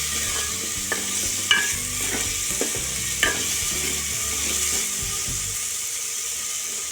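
Red lentils and curry leaves fry in a pan, a steady broad sizzle running throughout with a few sharp scrapes and clinks of a spoon stirring near the start.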